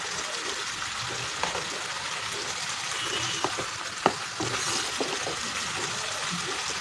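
Ginger and garlic paste frying in oil for mutton rogan josh, a steady soft sizzle throughout with a few small pops and clicks of a spoon, close and moderately loud, no talking.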